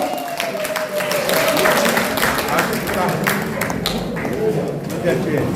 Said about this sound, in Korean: 여러분들의 아름다운 격려와 환호 속에 183차 오늘 신년맞이 가장 이취임식 모든 행사를 마치도록 하겠습니다